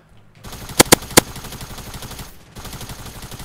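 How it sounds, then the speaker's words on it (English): Tactical submachine gun fired in the Fortnite video game, heard as a quick burst of three sharp, loud shots over a steady ambient game background. "Tactical submachine gun."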